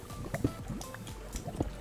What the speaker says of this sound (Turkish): Su sesi var.